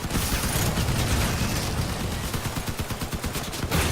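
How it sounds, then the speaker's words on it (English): Rapid gunfire in the vehicle combat game Crossout, a dense stream of shots and impacts with rattling mechanical clatter, loud and continuous, growing into a fast regular burst near the end, no voices. "Someone is actually shooting us up."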